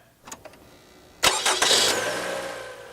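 A car's ignition clicks a few times before the engine cranks and catches with a sharp burst, then settles into a loud, steady idle that slowly eases off.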